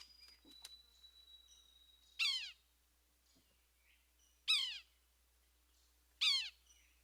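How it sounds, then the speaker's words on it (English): Yellow-bellied sapsucker giving three loud, whiny descending calls spaced about two seconds apart, near and clear against a quiet backyard background with a faint thin tone early on. "Around here, we only have one kind of sapsucker, a yellow-bellied sapsucker."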